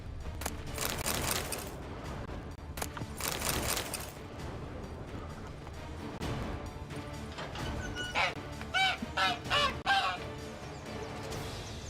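A caged goose-like bird honks repeatedly in Witcher 3 Blood and Wine, a short run of four or five nasal honks near the end, following quieter ambient game sound and brief activity.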